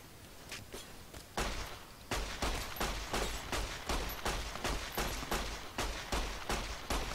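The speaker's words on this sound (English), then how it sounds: "You guys should stop shooting me, it's rude." Gunfire aimed at the player during the Nipton shootout in Fallout New Vegas, a steady run of sharp, evenly spaced shots, fairly quiet and distant, with no talk.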